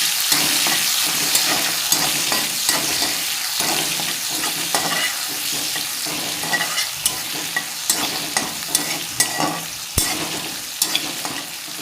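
Tomato, cauliflower and potato fry in an oily pan, a loud steady sizzle close by with frequent scraping stirs and small clinks, one sharp knock near the end.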